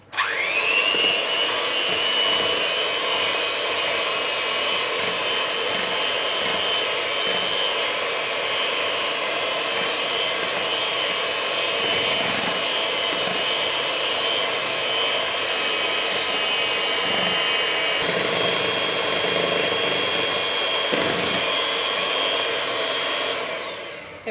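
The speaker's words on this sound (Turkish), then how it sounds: "Mikserle bunu iyice çırpacağız" An electric hand mixer whirs steadily at high speed for a long stretch, a constant buzzing whine with faint knocks as it beats cake batter of eggs until frothy.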